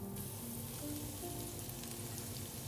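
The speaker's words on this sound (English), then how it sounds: "In the same pan, add a little bit oil, then add the cabbage and carrot." Cabbage and carrot stir-fried in a little oil in a pan, giving off a continuous, even sizzle with no voices over it.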